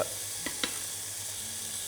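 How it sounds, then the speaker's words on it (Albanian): Shrimp sizzle in a hot pan as they fry for a couple of minutes per side for a creamy shrimp rice dish. A steady, fairly quiet frying hiss is broken by two brief clicks, with no talking. "Karkalecat nuk duhet më shumë se 2-3 minuta në njërën anë"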